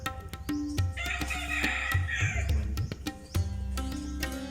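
A junglefowl rooster crows once in the open air, its drawn-out call cutting through a steady background dotted with sharp clicks and knocks.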